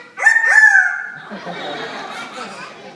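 A parrot mimics a rooster's crow in one shrill, rising, drawn-out call, followed by a softer, rougher warble.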